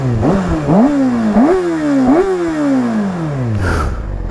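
Kawasaki Ninja ZX-6R sport bike on its original stock exhaust, revved hard several times in close succession, the engine note rising and dropping in sharp repeated sweeps before winding down to idle.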